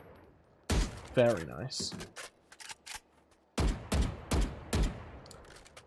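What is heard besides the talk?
Vandal rifle firing in video game Valorant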